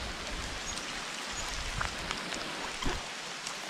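Hail falls during a wilderness storm in a steady, soft patter. Occasional sharper taps stand out over the continuous hiss, with no voices.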